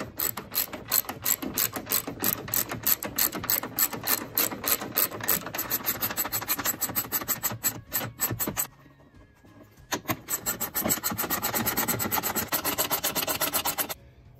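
A socket wrench ratchets on a 2009 Toyota Camry strut, a fast, steady clicking run that pauses briefly mid-way and then resumes in the same close, loud rhythm, with no one talking.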